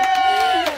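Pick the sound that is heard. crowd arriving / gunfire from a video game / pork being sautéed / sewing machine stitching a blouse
crowd arriving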